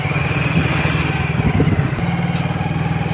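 A motorcycle rumbles along with a steady mid-pitched engine drone and a brief rise in revs, close and continuous over road and wind noise.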